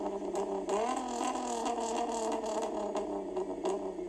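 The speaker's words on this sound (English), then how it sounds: "Now the Corrado is mainly known for its VR6 engine, which sounds glorious." Volkswagen Corrado VR6 engine revving steadily, a loud, close, continuous rasp with a slight pitch rise early on and no talking.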